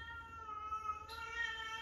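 Siamese cat meowing indoors, a faint, drawn-out tonal yowl with shifting pitch, quiet and alone against low background hum.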